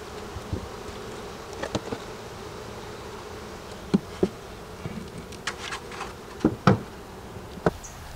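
Honeybees buzz steadily around an opened hive as a colony is split in two, with scattered wooden taps and knocks from hive work cutting through the drone.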